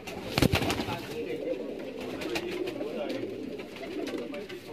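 Rampuri pigeons, a large breed, give low cooing calls against busy background noise, with a couple of sharp knocks near the start.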